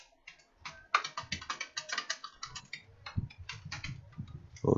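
Code is typed on a computer keyboard in quick, close, crisp bursts of key clicks with short pauses between them, clear and alone with no talk.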